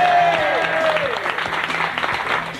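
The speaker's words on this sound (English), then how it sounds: "For the last time, a very hearty cheer of congratulations for everyone because they are all winners." Studio audience applauding the contest finalists with steady, sustained clapping of many hands, a faint voice and tone running underneath.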